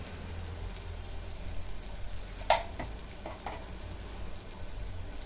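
Moth beans and ground spices (turmeric, garam masala, coriander-cumin and red chilli powder) sauté in a pan, giving a soft, even sizzle with a low hum and one brief clink of a spoon partway through.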